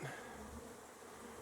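Bees buzz near a beekeeper's colonies and apiary, a brief, steady, close insect drone with one louder pass at the start and no voices.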